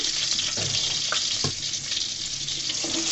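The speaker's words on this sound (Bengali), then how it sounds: "রসুনগুলোকে একটু হালকা করে ভাজার পরে দিয়ে দেবো কিছু পেঁয়াজ কুচি" Sliced garlic sizzles steadily in hot soybean oil, a dense, even frying hiss with a few soft knocks from the pan, close and continuous with no talking.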